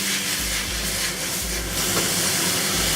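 Beef with green chili peppers and green onions stir-frying in a hot wok, a loud continuous hissing sizzle with low rumbling scrapes, no talk.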